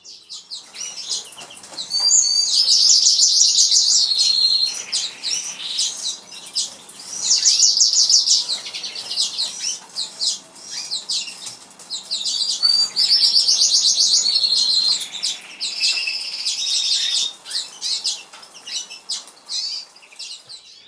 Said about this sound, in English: So we've got 6 pairs of lesser redpoles here behind me.